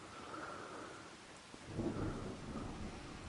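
Video game rain falls steadily in Farming Simulator 25 while a low rumble of thunder rolls in partway through, soft and distant, with no voices.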